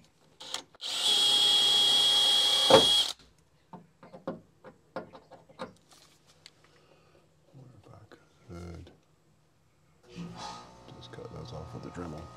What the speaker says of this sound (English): Now I need to drill out these for the motor over here.